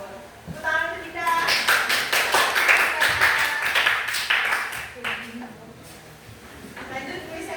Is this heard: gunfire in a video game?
no